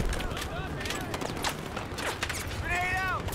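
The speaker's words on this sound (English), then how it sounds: "Let's reload" Mechanical clicks and metallic clatter of a weapon being reloaded in Battlefield 4, short and close, with scattered distant gunfire and bright tonal game effects in the background.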